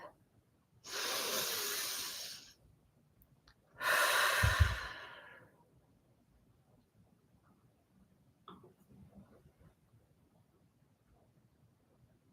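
Slow breaths out through the mouth during a guided breathing meditation: two long airy exhales, each lasting a couple of seconds and separated by a pause, followed by a faint softer breath, close and quiet with no talking.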